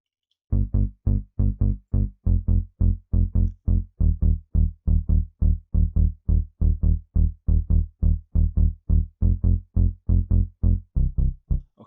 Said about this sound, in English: nice low bass sound, which sounds like this